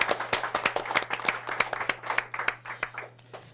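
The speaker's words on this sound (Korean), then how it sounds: "박수 부탁드리겠습니다." A small group claps for a few seconds, sharp separate hand claps at an uneven rhythm, with a low steady hum underneath.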